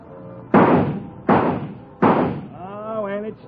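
Three loud, sharp rifle shots ring out at a fairground shooting gallery at a steady pace, each with a short decaying tail, followed by a voice.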